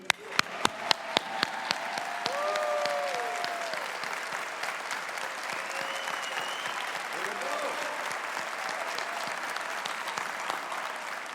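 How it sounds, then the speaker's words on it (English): A large crowd at the CUFI Summit 2019 claps loudly in sustained applause. A few sharp, separate claps come first, then a dense, even wash of clapping that holds steady throughout. "I think you need to clap real loud for about 30 seconds"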